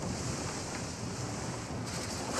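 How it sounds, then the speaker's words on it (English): Ocean waves wash steadily around a sailing ship in Skull and Bones, a broad constant rush of surf mixed with wind noise, with no voices. "Let's see if we can go faster with the waves. Yeah, they did so well on the wave effects."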